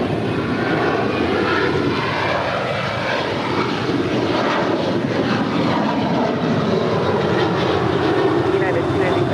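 A jet airliner on final approach to runway 25 left at Los Angeles International Airport gives a loud, steady engine roar that holds throughout, with a faint voice under it.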